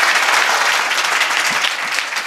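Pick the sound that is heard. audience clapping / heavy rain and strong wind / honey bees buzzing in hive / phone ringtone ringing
audience clapping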